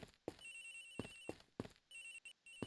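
Cell phone ringing in the Ace Attorney video game, a melodic electronic ringtone with repeating pulses and a sustained high tone, heard alone with no talking.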